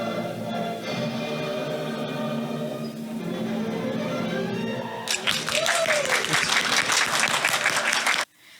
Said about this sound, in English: Let's check out the clapping in normal time.